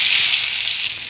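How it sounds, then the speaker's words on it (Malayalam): Mustard seeds splutter and sizzle in hot oil for a tempering, a loud, dense crackling hiss heard close up and alone. "വേറൊരു പാത്രം എടുപ്പിച്ച് കടുക് പൊട്ടിച്ച് താളിച്ചിട്ടാൽ മതി"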